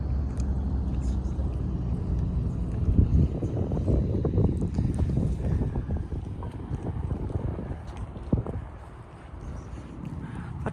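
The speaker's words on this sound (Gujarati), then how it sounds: "તો મસ્ત ધીમો ધીમો પવન છે" A gentle breeze blows at the Trillium Park lakeside in Toronto, a soft rumbling wind noise against the microphone with faint water and ambient sounds that swell and ease over several seconds.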